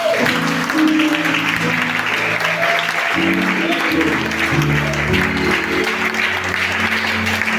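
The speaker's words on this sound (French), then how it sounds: "Si tu le crois, acclame Jésus encore." A church congregation at a Sunday worship service claps loudly and steadily, joined by cheers and shouts, while sustained organ or keyboard chords play throughout.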